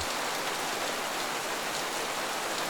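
Steady, dense hiss of heavy rain pouring down on Paris streets, continuous and even throughout with no voices.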